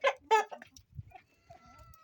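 A rooster on a poultry farm gives a few short, close clucks, loud at first and then trailing into quieter, sparser calls with no talk over them.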